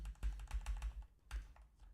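Rapid, uneven keystrokes clatter on a computer keyboard at close range, with a brief pause partway through before tapping resumes.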